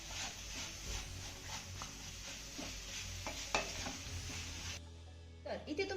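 Jaggery stirred steadily in a pan as it melts into a thinning mixture for raw-banana puran poli, giving a continuous close scraping and soft sizzle with a few sharper clinks, easing off near the end.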